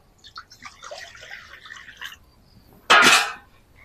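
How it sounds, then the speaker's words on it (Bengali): Water is poured into a wok in a kitchen during fish kachori preparation: after faint clinks and rustling, a short, loud splashing gush lasts about half a second, then fades. "কড়াই দিয়ে দিচ্ছি পানি।"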